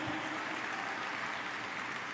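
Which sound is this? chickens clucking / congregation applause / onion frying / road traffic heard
congregation applause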